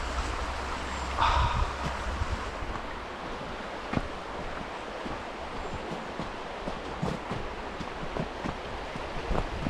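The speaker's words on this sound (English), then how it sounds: "it's just a nice pleasant walk along the edge of the river, so you can see and hear it all the way along this pathway" A river rushes in a steady broadband wash beside a walking path, with wind buffeting the microphone and a few brief bumps.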